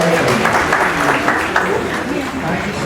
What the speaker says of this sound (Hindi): एक बार फिर से तालियां हो जाए और सबका स्वागत करें।